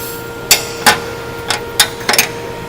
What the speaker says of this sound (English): And tighten down the jam nut.